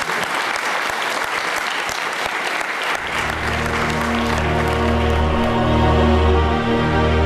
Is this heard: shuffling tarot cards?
no